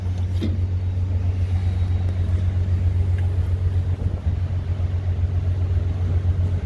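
A 2021 Peterbilt 367 custom dump truck with a 500 hp X15 Cummins engine idles close by, a steady deep diesel rumble that holds evenly throughout with no voices.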